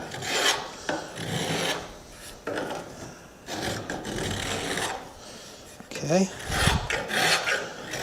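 A hand rasp tapers the top of a wooden letter opener in steady back-and-forth strokes, loud and close, with a few short pauses between passes and one brief spoken word near the end.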